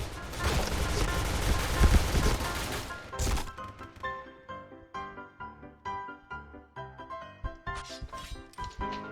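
An SC gun in the shooter game Point Blank fires a dense, loud burst of gunfire at first, then a rapid run of sharp single cracks spaced closely, each ringing briefly against quieter game sounds.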